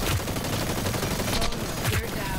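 Dense gunfire in the Hyper Scape video game, a busy fusillade of shots filling a short burst of steady, loud combat noise with voices mixed in.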